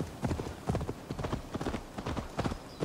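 Galloping horse hooves in the Assassin's Creed Valhalla video game, a fast, steady clip-clop rhythm that stays loud and close for the whole stretch, with a faint voice in the background.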